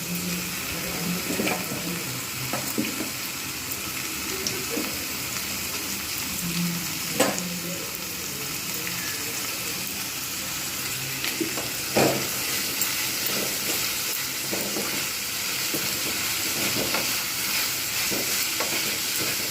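Steady sizzling of sliced potatoes and bitter gourd frying in oil in a pan, a continuous crackle broken by occasional scrapes and taps of a stirring spoon, close and fairly loud, with no voices.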